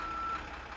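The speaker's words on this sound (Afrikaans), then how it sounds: "Dit is 'n vullistrok." A garbage truck backing up sounds a single steady reversing beep tone for about a third of a second, with low engine rumble continuing underneath and after it.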